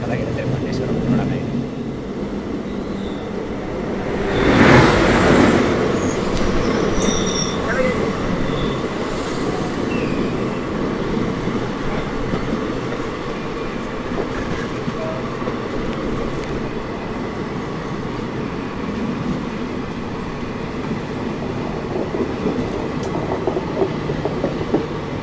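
A Bengaluru–Mysuru passenger train rolls along the main line, wheels rumbling and clattering steadily, with a louder rushing burst near the start, as people talk over the noise.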